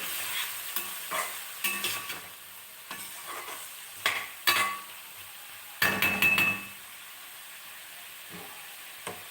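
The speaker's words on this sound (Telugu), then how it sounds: "టమాటో వేసేసి బాగా కలిపేస్తాము" Tomatoes being stirred into an ivy gourd masala curry frying in a pan, with a steady sizzle and repeated scraping, clinking spoon strokes in short bursts, close and clear with no talking.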